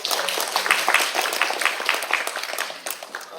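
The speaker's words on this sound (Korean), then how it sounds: "큰 박수." Applause from an audience at a policy forum wrapping up a panel discussion, a dense patter of many hands clapping at moderate volume, gradually easing off.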